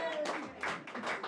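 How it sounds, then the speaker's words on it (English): Crowd at a P.E.I. 2023 election night event breaks into scattered clapping and cheers as a politician walks into the room, with overlapping voices and a few louder swells in the noisy hall. "some more cheers from the crowd here"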